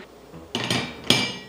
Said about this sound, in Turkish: Tenceremi ocağın üzerine koyuyorum.